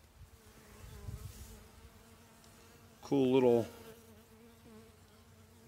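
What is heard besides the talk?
honey bees buzzing at an opened viewer hive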